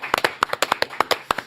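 Sharp, evenly spaced hand claps, about a dozen in quick succession, close and fairly loud, greeting a guest in a Korean YouTube studio.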